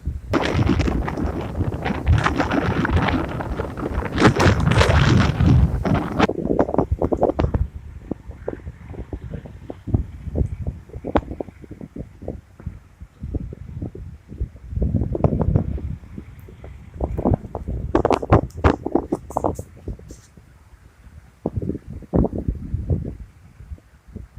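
Strong gusty wind sweeping a dry field during winter crop sowing with a YUMZ tractor, roaring and buffeting loudly for the first six seconds, then continuing in uneven gusts with scattered thumps and rumbles.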